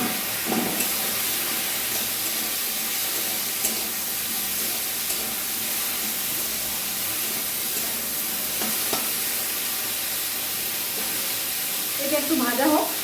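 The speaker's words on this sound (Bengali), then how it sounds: "এটা একটু ভাজা হোক" Okra and poppy seed dish frying in a pan with dried red chilli and nigella seeds, a steady soft hiss of sizzling oil with faint stirring knocks, a brief clatter near the end.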